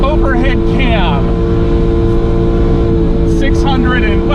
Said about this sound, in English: Powering this car, well, it's right behind me under this soft top, is Honda's 3-cylinder, 12-valve, overhead cam,